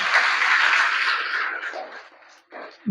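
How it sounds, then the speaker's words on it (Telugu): A congregation at a Catholic church feast for Mother Mary bursts into hand clapping, dense and loud at first, then thinning into scattered claps before a brief fresh burst at the end. "మళ్ళీ ఒకసారి చప్పట్లు కొట్టుకోండి."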